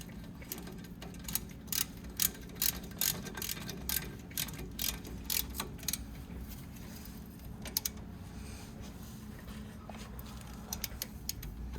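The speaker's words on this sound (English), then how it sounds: "Make sure I can torque it down nice and tight, because you do not want these to ever back out." A ratchet on an extended 3/8 handle cranks a hub bolt tight, giving quick bursts of sharp, close clicks that pause and resume over a steady low hum.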